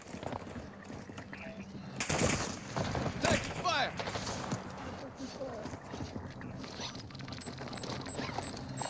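Incoming gunfire in Call of Duty DMZ mode cracks out in sharp, scattered bursts, loudest in the middle stretch, mixed with game noise and voices talking over the action.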